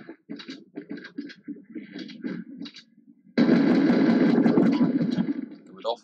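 Fortnite gunfire erupts as a loud, dense, continuous burst halfway through, after a stretch of someone talking over quieter in-game sounds.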